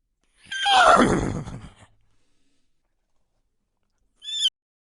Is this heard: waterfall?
no